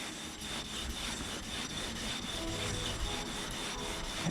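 A Japanese chisel back is rubbed on a sharpening stone through abrasive slurry, giving a continuous wet, gritty scrubbing hiss with a steady back-and-forth rhythm, close and fairly quiet, without speech.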